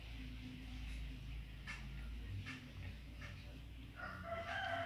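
A rooster crows faintly over low background noise, with a short crow partway through and a clearer, louder one near the end.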